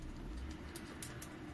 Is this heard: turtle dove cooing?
yes